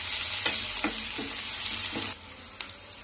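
Onions, green chillies and curry leaves fry and sizzle steadily in a pan while a spoon stirs them, with four or five scraping strokes cutting through the constant hiss and no voices.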